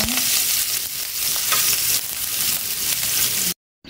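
Onion fries in a pan for dinuguan with a dense, steady sizzle and crackle that is close and loud, plus light stirring movements. It cuts out abruptly just before the end, and no one talks.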